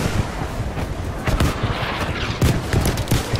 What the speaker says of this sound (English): Enemy shooting on.